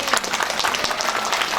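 High school students in Jakarta clapping together, a brisk, dense burst of close applause with rapid overlapping claps, loud and continuous for the whole moment.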